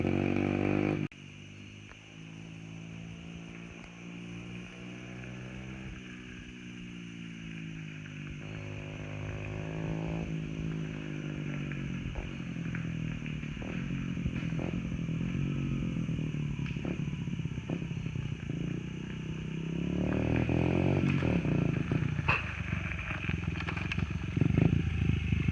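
A Honda XR50 pit bike engine with a new exhaust pipe runs steadily for about 25 seconds, a low buzzing drone with some rev changes, growing louder near the end, with no talking.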